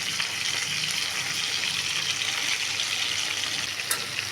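Stuffed brinjals sizzle in a pan after being turned, a steady close hiss of frying oil that stays even throughout with one small crackle near the end.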